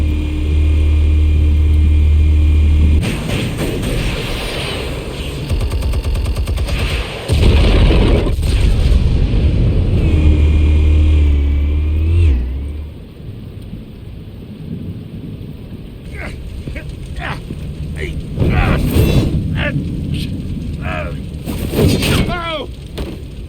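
Loud booms, blasts and bursts of gunfire in Batman: The Telltale Series, heavy low rumbles alternating with sharp cracks and quieter stretches, mixed with game sound effects and a voice.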